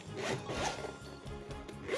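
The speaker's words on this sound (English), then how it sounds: "Opens with a zipper, and here is the ocarina." A zipper being pulled open around a soft foam-lined case for a Focalink Signature triple ocarina, a close, quiet rasping run of several short strokes without any talk.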